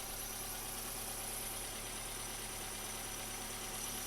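A 2004 Toyota Yaris engine idles on the choke after sitting unused all day, a steady, even hum with a faint mechanical tick running unbroken and close by, with no voices over it.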